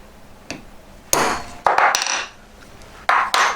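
A hammer strikes a metal letter stamp held inside a ring, giving four sharp metallic taps in an irregular rhythm, close and loud against a quiet room.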